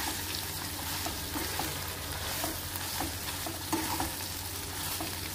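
Dry red chilies, curry leaves and peanuts fry in hot oil with a dense, continuous sizzle, broken by faint stirring scrapes throughout.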